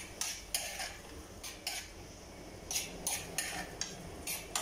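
A utensil stirs food in a frying pan, giving a run of quick metallic scrapes and taps in an uneven rhythm, close and fairly soft, with faint oil noise underneath.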